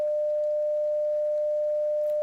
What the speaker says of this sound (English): You would get like some tones like this